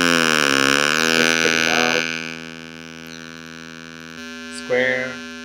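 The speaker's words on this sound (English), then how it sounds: "we can use sine wave and let me try other wave" A steady synthesized sine-wave tone from Sverchok audio nodes holds with a smooth pitch sweep, drops away, then a triangle-wave tone returns briefly with a small pitch jump. No talking.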